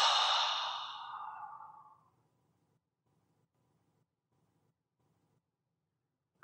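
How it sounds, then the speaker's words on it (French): A long, breathy exhale through the mouth, loud at first and tapering off over about two seconds during a guided breathing exercise, followed by near silence with a faint low hum. "Inspire en gonflant le ventre et expire longuement par la bouche."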